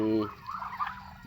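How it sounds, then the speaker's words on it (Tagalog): Muscovy ducks being fed on a farm give a short, close, breathy hissing call with a brief low rasp, over faint background noise. "Muscovy duck."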